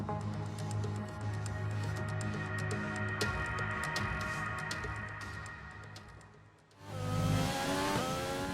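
Formula 1 car engine in the F1 2020 racing game on a qualifying lap, a high revving whine climbing through gears, dipping briefly under braking and then surging back louder as it accelerates.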